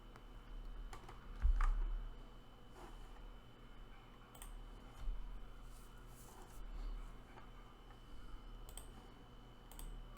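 Keyboard keys clicked during a Windows Server operating system installation for a Citrix, vCenter and Active Directory lab: sparse, quiet taps and a single firmer press, spaced over a steady low hum with no talking.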